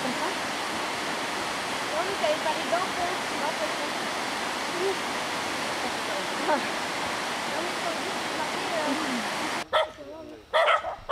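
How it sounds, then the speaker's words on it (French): A farm dog in rural Cambodia barking and whimpering beside a rushing river, the faint, scattered barks partly buried under the steady roar of water before a voice cuts in near the end. "Accueil chaleureux du chien d'agriculteur"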